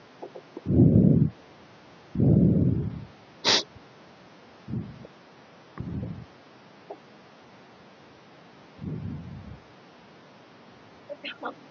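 A person coughs during a maths lesson for a mid-term exam, several close, heavy bursts spaced a second or two apart, then a few softer ones, with the room otherwise quiet.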